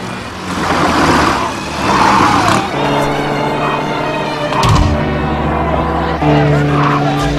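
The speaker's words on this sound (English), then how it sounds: "Let's show you how it's done with old MacGyver car chases." A MacGyver car chase plays as loud engine roar with tire screeches and a sharp impact midway, under busy overlapping sound with voices talking.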